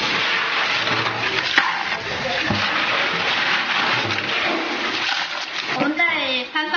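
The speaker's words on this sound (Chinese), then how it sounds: "把金螺洗一下吧" Golden snails are rinsed and swished in water, giving a continuous splashing, running-water wash with sloshes and clatter up close, and voices talking throughout.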